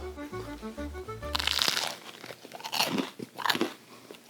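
Bite into crusty homemade focaccia, which is crusty on top and bottom and soft inside: loud close crunches and chewing, heard alone after a few soft tones at the start.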